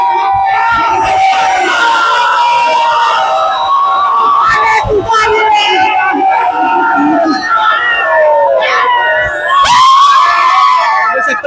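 NCP Sharad Pawar faction workers celebrating a municipal election win, a loud close crowd of shouting and high-pitched cheering and whistling that surges throughout, with voices yelling over the din.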